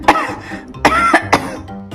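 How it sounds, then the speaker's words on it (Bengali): A patient visiting a doctor's office coughs in several harsh bursts, with a short pause between the first and the later pair, fairly close and alone. "খুব কাশি"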